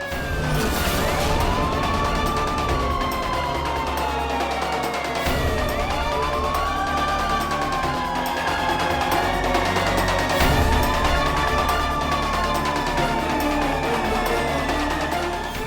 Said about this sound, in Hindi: ये खिलौने की आवाज को पुलिस की सायरन समझ के भाग गए